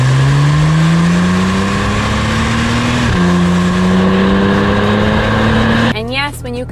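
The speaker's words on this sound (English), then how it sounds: "some critics will say that this engine sounds a bit choked" A 2021 Porsche 992 911 Turbo Cabriolet with a twin-turbo flat-six and dual-clutch transmission revs loudly and steadily, its pitch rising, briefly dropping near the middle, then climbing again before cutting off into a quieter tail.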